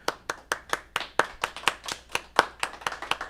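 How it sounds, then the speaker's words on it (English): Studio applause effect on a car-dealership talk show, heard as a quick run of sharp, even hand claps from a single small source, close and dry, with no voices over it. "Cue applause track."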